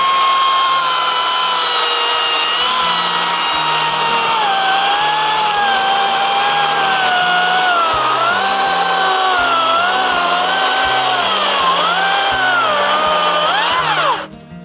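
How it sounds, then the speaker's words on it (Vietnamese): A battery chainsaw runs loud and steady for about fourteen seconds at a forest campsite in Australia, its pitch dipping and rising as the chain bites through wood, then it cuts off abruptly. "bây giờ sẽ thử sức với cái cưa của Chiến trước nhá"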